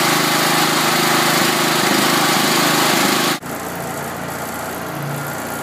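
A Honda electricity generator runs loud and steady with a constant engine drone. Partway through it switches abruptly to a much quieter, smoother hum, and no one talks.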